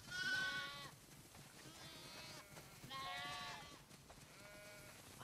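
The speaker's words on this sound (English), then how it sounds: "Wow, that's a lot of sheep." Sheep bleat in the game The Last of Us Part II, two clear bursts of wavering bleats separated by a short gap, quiet and fairly near, with no talk over them.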